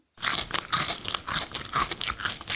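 Crunchy Makihihi potato fries being bitten and chewed up close, a steady run of crisp crunches with short pauses between bites, no talking.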